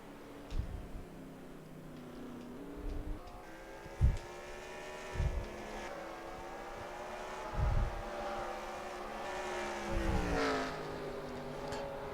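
Race cars lap the Watkins Glen circuit in the NASCAR NR2003 racing game. Engine tones whine and shift pitch without stopping, and louder bursts come at intervals as cars pass close by.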